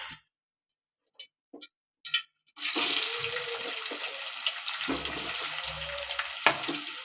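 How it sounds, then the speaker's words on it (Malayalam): Cut raw mango pieces dropped into hot oil, a few soft clinks and taps followed by a sudden loud, steady frying sizzle with bubbling that lasts to the end, close-up and without speech. "ഇനി നമുക്ക് ചൂടായ എണ്ണയിലേക്ക് അല്പാൽപ്പമായിട്ട് നമ്മൾ നേരത്തെ മുറിച്ച് വെച്ച മാങ്ങ ചേർത്ത് കൊടുക്കാം"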